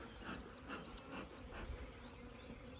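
Honey bees on a hive frame make a steady, dense buzz of many wings, close and continuous, with individual bees swelling louder as they pass near.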